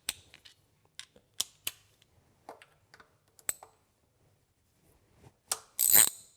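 A socket ratchet clicks in short, sharp bursts while loosening the 8mm coil pack bolt on a 2008 Suzuki SX4, close and crisp with quiet gaps, ending in a louder rattling flurry.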